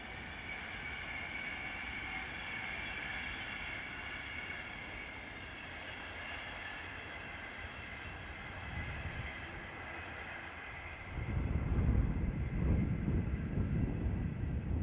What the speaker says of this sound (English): This is train 1S63, the 12:30 from Euston to Glasgow.